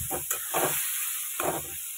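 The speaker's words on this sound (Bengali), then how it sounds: "এই পটল পাকা পটলটা ঢেলে দিলাম, দিয়ে এবার এটাকে কিন্তু আমি অনেক সময় ধরে খুব সুন্দর করে ভাজবো" Pointed gourd coated in mustard paste frying in a pan, a steady sizzling hiss with a few short stirring scrapes and bursts, close and fairly loud, no voices.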